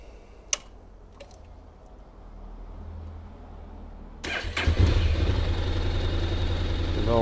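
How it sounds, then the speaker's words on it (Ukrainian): A 2023 Honda NC750X motorcycle engine started hot from the button: a few quiet clicks and a rising whir, then the engine catches abruptly and settles into a steady, close idle rumble. "Наглушимо з кнопки на гарячу, запуск на гарячу з кнопки."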